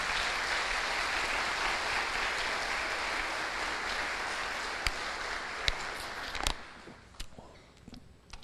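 A church congregation applauds during a worship service, a dense, steady wash of clapping for about six seconds that thins out into a few scattered claps and faint shuffling before falling quiet.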